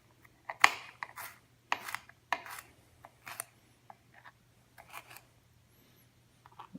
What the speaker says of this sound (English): So just get all the seeds out and cut up the jalapeno.